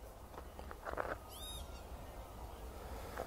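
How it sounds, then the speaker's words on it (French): A small bird sings briefly outdoors, a short high chirping phrase around the middle over a soft steady background, fairly faint and at a distance, with no one speaking. "Il y a un beau petit oiseau là-haut."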